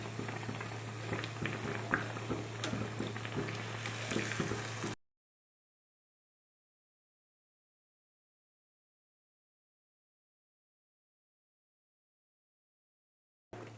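A snack of wheat flour and banana fries in hot oil, a steady bubbling sizzle with fine crackles over a low hum, which cuts out abruptly partway through and returns briefly at the end.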